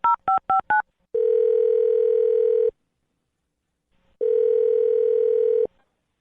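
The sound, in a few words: telephone being dialed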